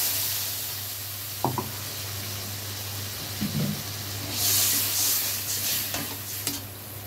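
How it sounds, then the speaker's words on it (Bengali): Water poured onto spices and cumin powder frying in oil in a pan for an eggplant and hilsa dish: a low, steady sizzle with a few knocks, then a louder hissing surge that gradually fades. "একটু ভাজা ভাজা হয়ে গেছে। এবার জল দেবো।"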